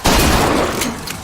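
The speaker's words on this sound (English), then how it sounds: "Never seen shooting like that." A short, loud burst of rapid gunshots rings out at a shooting gallery in Bioshock Infinite, the volley trailing off toward the end with a couple of sharper reports.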